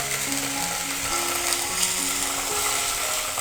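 Ginger garlic paste sautéing in a pan over a low gas flame, giving a steady soft sizzle and frying crackle with light scraping and stirring, heard alone without talk.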